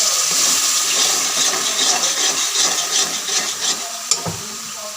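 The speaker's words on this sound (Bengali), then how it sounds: "মশলাটা ধরে যাচ্ছে কিছুটা জল দিয়ে দিচ্ছি" Water is poured into a pan of cooking fish curry with spices, a loud continuous splashing and sizzling hiss that settles slightly toward the end.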